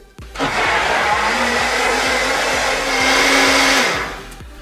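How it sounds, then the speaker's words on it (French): An electric blender mixes a protein chocolate cake batter of fromage blanc, eggs, baking powder, whey and walnut oil. A loud, close motor whirs steadily for about four seconds, then winds down, with no voices. "Donc maintenant, je vais tout mixer."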